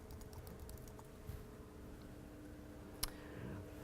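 Faint keyboard typing on a computer, a few soft scattered clicks and one sharper keystroke over a steady low room hum.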